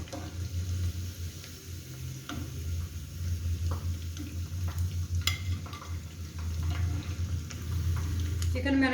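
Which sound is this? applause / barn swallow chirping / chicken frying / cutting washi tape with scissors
chicken frying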